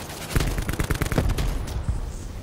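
Rapid, loud bursts of gunfire from a battle royale shooter match, with dense overlapping shots and booming blasts in quick succession, including shotgun fire, filling the whole moment with no talk.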